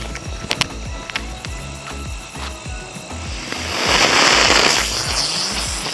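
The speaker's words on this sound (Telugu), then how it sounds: "ఇంకొక క్రాకర్ని కాల్చి చూద్దాం ఇది ఇంతే తక్కువసేపు వస్తుందా ఎక్కువసేపు వస్తుందా అని" A spinning Diwali firecracker lit and burning, with sharp crackles and pops at first, then a loud sustained hissing, whirring spray that builds and keeps going, close by.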